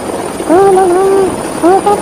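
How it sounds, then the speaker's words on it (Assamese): A cartoon police helicopter drones steadily and loudly in an animated chase scene, a constant whirring wash with whistly voices layered over it. "হেলিকপ্টাৰখন কেনেকৈ ঘূৰি কৰি দেখি"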